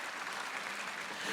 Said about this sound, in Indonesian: kita tepuk tangan yang paling meriah bagi dia